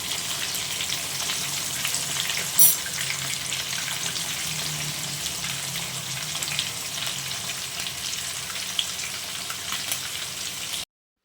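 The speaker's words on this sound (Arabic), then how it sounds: "مول الدار هو اللي كيقلي اختي" Fish sizzling as it fries in hot oil, a steady close crackling hiss with faint pops, continuing evenly without talk.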